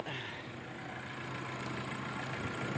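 A 2018 Nissan Navara engine idles steadily after starting, a close, continuous low rumble with a constant hum and no talk over it.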